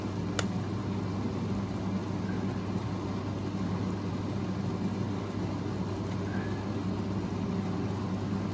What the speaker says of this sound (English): The water is now boiling, the sugar water.